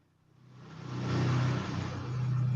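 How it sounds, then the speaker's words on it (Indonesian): A motor vehicle passes outdoors, its engine hum swelling from faint to a steady, fairly close drone that lingers to the end. "Wes ada suara motor lewat."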